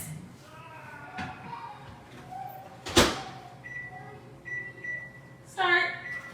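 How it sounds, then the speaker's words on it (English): Food goes into a microwave oven, its door shuts with a sharp thump, and a few beeps follow as a boy makes dinner at home, with a low hum and soft voices underneath. "Push it on and put it in the microwave for"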